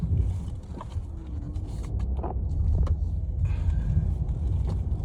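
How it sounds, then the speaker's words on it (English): Steady low road rumble from inside a car driving home at night, a continuous engine and tyre drone with small bumps and rattles, no talking. "I am driving home."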